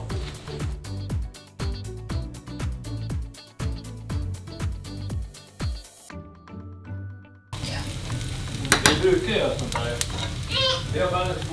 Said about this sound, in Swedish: Man ska steka gul lök också.